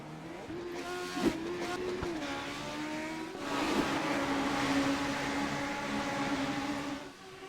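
Legends race cars roar around the oval track at Thompson in a continuous dense engine drone, with pitch sweeps as cars pass and a louder swell midway, no talk.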